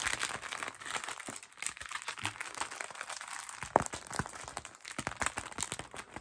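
Crinkly plastic is handled as a soft ASMR trigger: continuous rustling and crackling with scattered sharper crunches, close and fairly quiet, with no voice.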